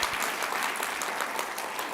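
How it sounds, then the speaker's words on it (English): A brief, dense round of applause fills a summit hall on food and agriculture policy, with many hands clapping evenly at a steady, fairly close level. "Round of applause for them, please"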